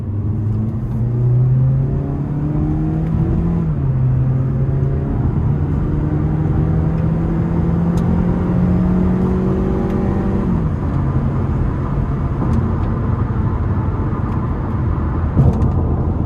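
A 2018 Mazda CX-3 Grand Touring engine pulls hard in manual mode, its drone climbing in pitch, dropping briefly at a gear change, then rising again loud and close from inside the cabin.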